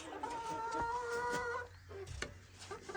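A hen clucks in a coop with a drawn-out, wavering call followed by shorter clucks, fairly close against a faint background hum.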